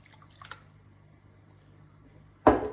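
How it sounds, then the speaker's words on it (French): Beef broth poured into a pan of bolognese sauce gives a short, loud splash and gurgle near the end, after a few faint earlier clicks and quiet background. "je vais rajouter le bouillon de bœuf"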